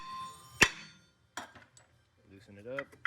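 A hammer strikes a 2018 Jeep Wrangler rear brake rotor to loosen it, one sharp metallic ringing hit followed by a duller knock, with a brief voice near the end.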